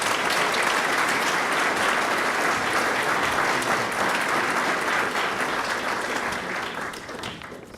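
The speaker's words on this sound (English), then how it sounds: "Let's give him a big round of applause" A big round of applause from an audience at a Governor Cuomo business partnership announcement, sustained and evenly loud for several seconds before starting to fade toward the end.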